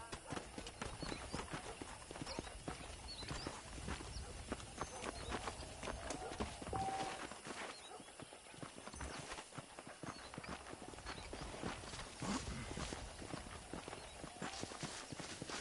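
Saddled horses in the video game Red Dead Redemption walk with steady clip-clopping hooves on hard ground. The hoofbeats are continuous and fairly faint, with a low game soundscape underneath.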